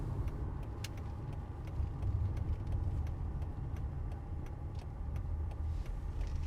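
A 1999 Mercedes Benz car drives along with a quiet, steady low engine and road hum from inside the cabin, a few light clicks and ticks scattered through.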